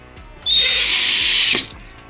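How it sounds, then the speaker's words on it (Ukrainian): A power screwdriver drives a self-tapping screw into a chest-of-drawers runner in one high, whining burst of about a second, loud and close, ending with a short clunk and faint handling clicks. "І ось так ми їх прикручуємо."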